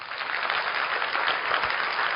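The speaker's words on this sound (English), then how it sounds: "Give him a big round of applause." Audience applause for Dato Kenny Wong at a direct-sales leadership training meeting in Indonesia: steady, dense clapping from a large crowd, sustained and even throughout with no pauses.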